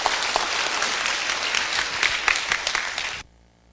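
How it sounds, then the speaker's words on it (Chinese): A lecture audience at a national library applauds warmly to welcome a professor, with a burst of dense clapping that holds steady for about three seconds and then stops abruptly into near silence. "请大家以热烈掌声欢迎他"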